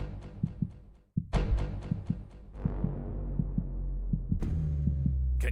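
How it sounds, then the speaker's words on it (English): Heartbeat sound effect introducing a PUBG Mobile esports championship broadcast, a steady run of deep double thumps pulsing over a low humming drone with swelling whooshes, no voices. "Can you feel your heart beating faster and faster?"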